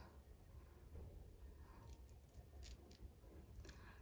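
Scissors cutting through wig lace in a zigzag during a burgundy wig unboxing, giving a few faint, brief snips and crisp clicks over a low, steady background hum.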